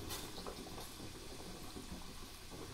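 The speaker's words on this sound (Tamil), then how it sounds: "இப்போ தண்ணி நல்லா கொதிச்சிருச்சு." Water at a rolling boil in an idli steamer pot on a stove, a steady bubbling and hissing wash that holds evenly throughout with no voices.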